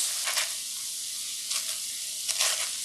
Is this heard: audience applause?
no